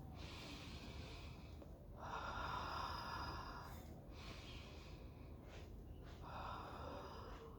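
Slow, quiet deep breaths drawn in and let out, soft airy swells rising and falling over a steady hush, close and gentle with no talking.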